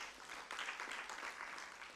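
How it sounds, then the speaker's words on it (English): Quiet audience applause after debate results are announced at a school debate contest, a faint, brief patter of clapping that swells slightly partway through. "A round of applause,"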